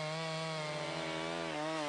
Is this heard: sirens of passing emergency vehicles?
no